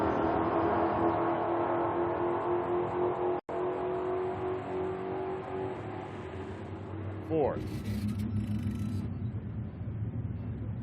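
Drag racing cars, a Corvette and a yellow Camaro, roar loud and steady as they accelerate down the strip, with a sweeping pitch shift near the end.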